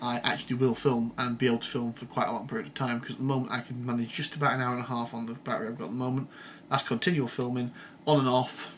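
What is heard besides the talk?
No distinct noise like a dog, phone or traffic.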